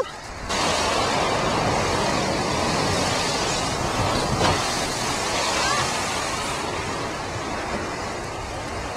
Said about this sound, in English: The waves are looking awesome, and David's loving it.